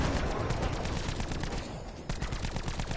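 Rapid automatic gunfire from a weapon in Black Ops 4 rattles in a dense, loud burst, shots hammering continuously with a brief dip before resuming, no voices over it.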